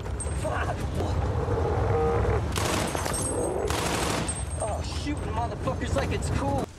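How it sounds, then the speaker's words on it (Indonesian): Bursts of rapid gunfire rattle loudly amid a chaotic battle soundscape, with engine rumble and shouting voices mixed throughout. "tembakan pun sudah dilepaskan"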